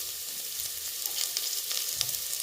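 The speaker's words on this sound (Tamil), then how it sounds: "வெங்காயம் நல்லா வதங்கிடுச்சு. இப்போ கருவேப்பிலை சேர்த்துக்கலாம்." Onions and curry leaves frying in a pan for nattu kozhi kulambu, a continuous close sizzle with a few crackling pops and light stirring, no speech.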